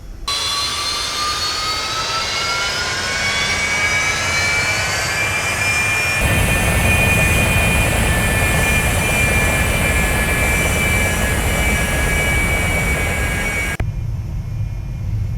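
Airliner jet engines spooling up and roaring through a takeoff roll in the X-Plane 11 flight simulator, a loud steady whine with rising tones that holds throughout before cutting off near the end.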